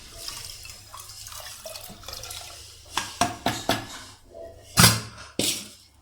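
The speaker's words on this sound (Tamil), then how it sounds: "நம்ம கீரை வேக வச்ச தண்ணியை வந்து தாளிப்பில் சேர்த்துட்டோம்" Water left from boiling spinach is poured into a hot tempering in a village kitchen, giving a few splashing, hissing bursts. The strongest bursts come in the second half, over quieter background noise.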